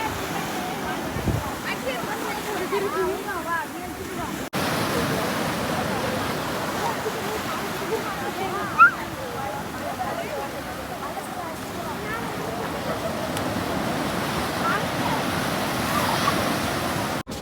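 Sea waves at Muttom beach in Tamil Nadu wash in with a steady, broad roar, while people talk faintly over the surf.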